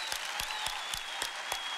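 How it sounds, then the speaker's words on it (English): Steady applause from a church audience fills the hall, with a dense wash of clapping and a few sharper individual claps standing out at a regular pace, fairly close. "So a big hand clap for you."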